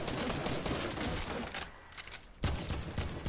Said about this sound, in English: people shooting at me